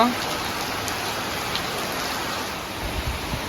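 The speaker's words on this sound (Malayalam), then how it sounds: "അഡാറ് മഴ നമ്മുടെ റൂമിൽ നിന്നുള്ള വ്യൂ ആണ്" Heavy rain pours steadily, a dense, even hiss with occasional louder drops and splashes close by.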